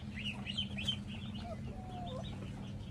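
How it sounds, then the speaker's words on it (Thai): Backyard chickens clucking while dust bathing on a small home farm, with soft chirpy clucks scattered through steady low farmyard rumble, fairly close and moderately quiet. "นี่ก็เป็นไก่คุกฝุ่นค่ะทุกคน"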